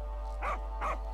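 Two short, soft puppy barks or yips sound about half a second apart inside a horror video game, faint over a steady low hum.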